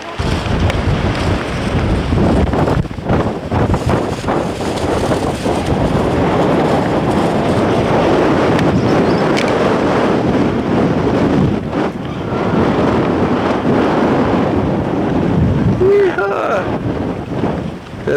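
Blustery wind buffeting the microphone with surf rolling in at a beach at Harris State Park near Brookings, a constant loud roar with a brief voice near the end.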